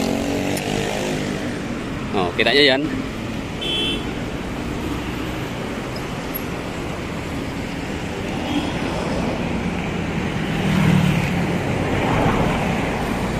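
Steady roadway rumble from street traffic in Davao City, with motorcycles and passing vehicles blending into a continuous wash, a brief horn-like tone early on, and a person speaking briefly over it.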